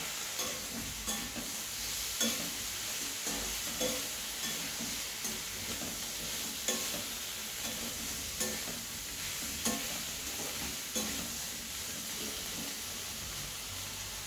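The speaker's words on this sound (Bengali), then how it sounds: "রসুন আর আদা বাটা দিয়ে এটা মশলাটাকে খুব ভালো করে এর সঙ্গে কষাবো।" Spice masala stir-fried with garlic and ginger paste for a jackfruit seed curry, giving a steady close sizzle with regular scraping strokes of the stirring spoon.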